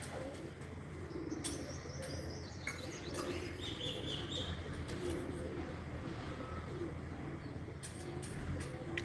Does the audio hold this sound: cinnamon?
no